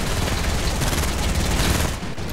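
Mounted turret in Fortnite firing a relentless, rapid stream of shots, loud and close, hammering without a break before cutting off near the end.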